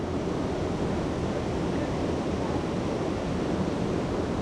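Water rushes steadily along a river around someone wading half-submerged, a dense, even roar close to the microphone with no breaks and no talking.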